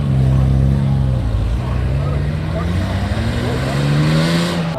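A straight-piped BMW M4 F82 exhaust holds a loud, close, steady drone, its engine pitch rising and falling slightly through revs, with people talking underneath.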